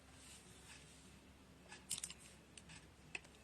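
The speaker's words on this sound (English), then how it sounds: "I will just cut it right here" Scissors cutting ribbon for a wreath of blooms, a brief cluster of quiet crisp snips followed by a couple of faint clicks, close but soft over a quiet background, with no talking.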